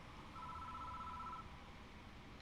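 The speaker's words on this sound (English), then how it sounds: "The phone started ringing out of nowhere." A phone rings in a horror adventure video game, a faint electronic tone held for about a second over a low ambient background, with no talking.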